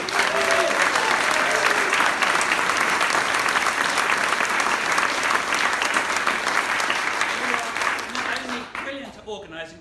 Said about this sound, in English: Can we give a big round of applause to Emma and all of the team that have organi